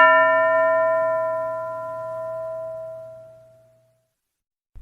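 A single bell struck once in a classroom lesson, ringing out loud and clear, then its metallic tone slowly decays over several seconds with no talk.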